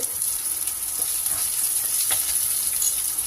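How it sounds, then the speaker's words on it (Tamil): Small onions and garlic fry in a pan, a close, even sizzle and crackle with faint stirring taps, continuous and without voices. "இப்போ வெங்காயம் போட்டுக்கலாம் சின்ன வெங்காயம்"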